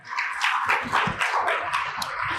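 A church congregation applauds together, a steady mass of clapping filling a couple of seconds at moderate loudness with no talk over it.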